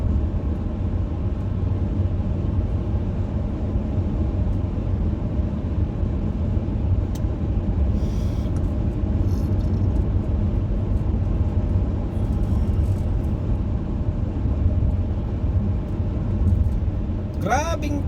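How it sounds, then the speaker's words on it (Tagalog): Heavy road traffic around 4 pm on the drive home from Riyadh airport, heard as a steady, loud low rumble of car engines and tyres from inside a moving vehicle, continuous throughout. "Grabing traffic pauwi guys."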